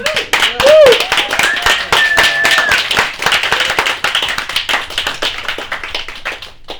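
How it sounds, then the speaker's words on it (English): Festival audience applauds the filmmakers with close, loud clapping and a few whoops, the dense patter gradually thinning over several seconds. "round of applause for those filmmakers"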